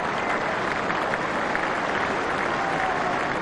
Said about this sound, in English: And generous applause